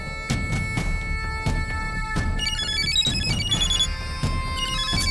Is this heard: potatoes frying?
no